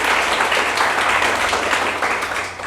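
An audience in a classroom-style hall welcomes a guest, a Junior Engineer with BRO, with continuous, dense applause that stays loud throughout and tapers slightly at the end.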